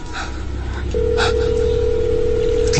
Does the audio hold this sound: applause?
no